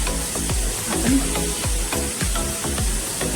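Onion sautés in a pan, giving a steady close sizzle with a rhythmic scrape of stirring every half second or so, and no voices over it.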